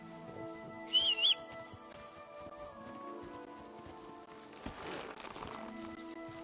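Horse hooves clip-clop in the medieval video game Kingdom Come Deliverance 2, a soft, steady gait heard fairly faintly beneath ambient game sound, with a brief high whistle early on.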